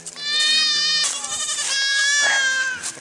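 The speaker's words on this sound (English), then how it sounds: "they're going to be spoiled goats" Goats bleat loudly and close by in a muddy, rainy setting, with long wavering cries that run together over about three seconds and no talking.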